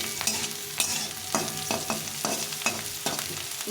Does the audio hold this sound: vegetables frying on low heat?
yes